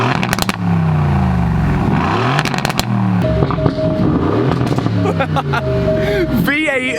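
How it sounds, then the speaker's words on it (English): Twin-turbo V8 of a wrecked 2019 Aston Martin Vantage revving hard in repeated bursts, close and loud, with rising and falling engine pitch, clattering and a chime, and someone talking over it. "V8 twin turbo madness."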